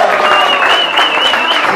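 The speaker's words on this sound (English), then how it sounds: "Round of applause for Tina Fowler." An audience at a chamber of commerce networking evening applauds loudly for a local businesswoman, with a dense wash of clapping and crowd noise while a voice or tone rises over it.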